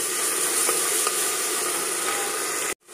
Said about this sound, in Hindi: और साथ ही अनियन, और इसको करेंगे फ्राई।